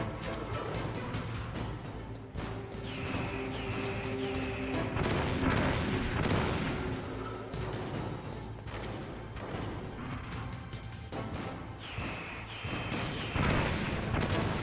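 Missile explosions from the video game Metal Gear Solid, a continuous loud stretch of booming blasts and crashing impacts layered over a droning game soundtrack, with no pauses.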